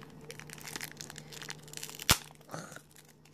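Crinkling and tearing of a nail-art product's packaging with one sharp crack partway through, then a softer rustle; quiet and close, no talking.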